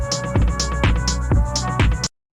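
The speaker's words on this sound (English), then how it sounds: "I was really trying to nail his clap sound because he's really good at getting these kind of like dirty lo-fi claps" Dirty lo-fi clap sample layer for a lo-fi house beat, struck four times at an even pace with crunchy, noisy hiss over a sustained tonal bed, loud and up front before cutting to silence.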